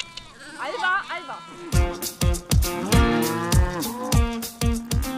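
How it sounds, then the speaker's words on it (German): A cow moos close by during a herd's move to a summer stable, a long drawn-out low call, and people talk over and around it. "Das ist die falsche Kuh."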